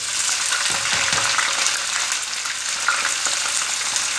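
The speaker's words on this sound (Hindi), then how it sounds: "अब उसी ऑयल में हम डाल देंगे प्याज।" Onions frying in hot oil in a home kitchen pan, a loud, continuous close-up sizzle with faint stirring scrapes underneath.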